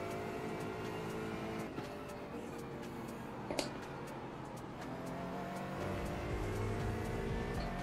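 Race cars in a racing video game on the VIR circuit make a continuous, faint engine whine and drone, with small bursts as cars pass or shift, and no talk over it.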